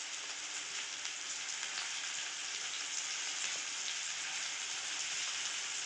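Green chillies frying in a pan with onions and turmeric for an Assamese pork mustard curry: a steady, dense sizzle with a faint crackle that holds even throughout.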